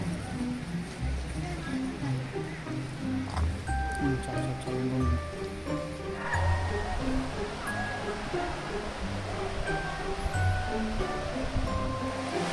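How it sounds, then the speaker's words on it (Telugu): Talakona waterfall, 270 feet high, in Sri Venkateswara National Park, Chittoor district, Andhra Pradesh: a steady broad rush of falling water throughout, with people talking over it. "ఈ జలపాతం యొక్క హైట్ వచ్చేసి 270 అడుగులు. ఇదే ఆంధ్రప్రదేశ్లో ఎత్తైన జలపాతం అండి."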